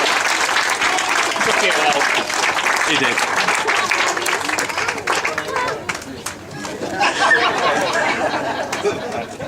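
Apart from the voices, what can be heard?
audience applause at a best man speech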